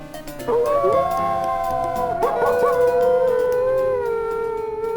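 A dog howls in the Quest for Glory video game, a loud sustained wavering howl with rising and falling pitch that carries unbroken for several seconds and fades slightly at the end.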